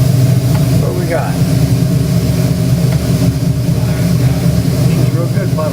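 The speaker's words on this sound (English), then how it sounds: "you gotta come down to idle" A 427 cubic-inch small block Chevy crate engine idles in a 1957 Bel Air with a loud, close, steady low rumble and a slight lope, while people talk over it.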